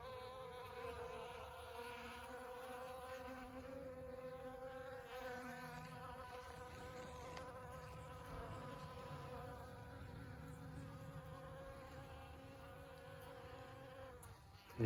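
Continuous buzzing of honey bees, a steady droning hum with layered wingbeat tones, close and unbroken, with no voices.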